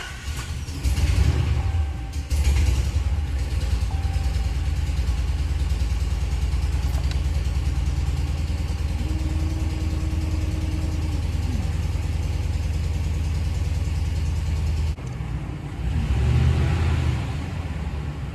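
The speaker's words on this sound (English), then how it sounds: "That is probably gonna run extremely rough at startup because a lot of fuel got down in that cylinder" Hemi V8 engine with a cylinder misfire and fuel flooded into one cylinder, cranking and catching, then idling with a low uneven rumble and mechanical whirring, a brief rev near the end.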